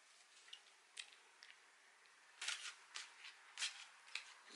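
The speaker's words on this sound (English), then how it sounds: "I am going to shuffle the cards." Cards being shuffled in a series of short riffling bursts, soft and close, with brief pauses between them and no talking.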